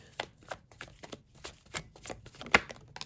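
Tarot cards are shuffled and drawn during a Capricorn money and career reading: about ten quick, soft papery flicks and taps over three seconds, close and quiet, with one sharper snap near the end and no talk.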